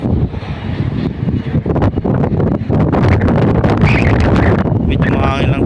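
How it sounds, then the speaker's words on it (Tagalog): Wind blowing hard across an open fishing spot, buffeting the microphone with uneven gusty rumble while people talk throughout. "Medyo mahangin lang po mga kasang."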